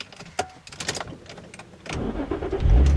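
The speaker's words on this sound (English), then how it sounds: "because it's not a push button start, you actually don't have to put your foot on the brake, just turn it like you would, like a normal key" A 2005 Infiniti G35x started with a conventional key: brief clicks and rustles, then the starter cranks and the engine catches and settles into a rising, steady idle close by.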